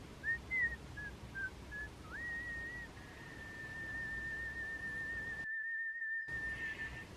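A clear, sustained melodic whistle from the Snow White (2025) film, a few short rising and falling notes followed by a long held tone, heard alone over a quiet background.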